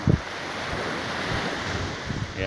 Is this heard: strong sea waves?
yes